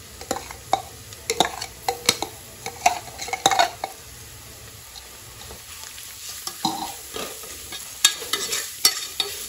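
Ground masala paste fries and is stirred in a pan while wet rajma masale bhat is being made, with a steady soft sizzle under repeated close scrapes and clinks of a spoon against the pan.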